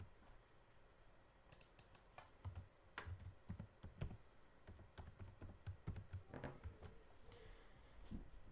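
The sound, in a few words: typing a Wi-Fi network password on a computer keyboard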